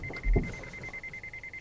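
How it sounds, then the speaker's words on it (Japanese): The collision warning of a Mazda Atenza's automatic braking system sounds during a 30 km/h test: a rapid, steady train of high beeps, a dull thump near the start, no talking. "はい、警報。"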